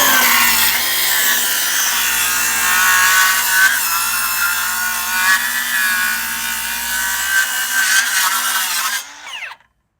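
A Milwaukee M18 Fuel 6 1/2-inch cordless circular saw makes a full-depth rip cut through wood. The loud, close, steady whine and rasp of the blade in the timber lasts about nine seconds, then the motor spins down to silence.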